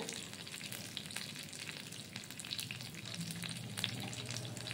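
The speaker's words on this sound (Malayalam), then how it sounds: "കറിവേപ്പിലയുടെ കൂട്ടത്തിൽ അത് കൂടി ഉഴുന്നുപരിപ്പും കൂടി ഒന്ന് ബ്രൗൺ കളറായി വന്നോളും" Urad dal and curry leaves frying in oil for a pumpkin-seed chutney, a faint but continuous crackling sizzle with occasional stirring clicks, no speech.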